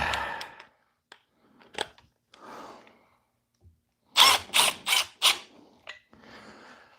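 Milwaukee M12 drivers running 5/16 by 6 inch structural screws, with a few short mechanical whirs and clicks followed by a loud run of four rapid impact bursts, close and alone.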